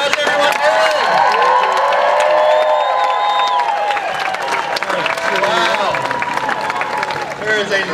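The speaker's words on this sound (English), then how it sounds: "Let's give a nice round of applause to Mayor Warren Poe." A crowd at a park dedication in Gainesville, Florida claps and cheers loudly and steadily. Whoops and shouting voices rise over the dense applause throughout.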